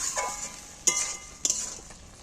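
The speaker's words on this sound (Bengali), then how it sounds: "এর মধ্যে মাছগুলো দিয়ে একটু নাড়াচাড়া করে ফুটিয়ে নিচ্ছি" Shrimp are stirred in a bubbling spice mixture in a pan, giving a gentle continuous sizzle broken by two distinct clinks of a spoon against the pan.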